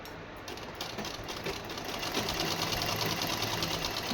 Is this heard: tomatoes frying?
no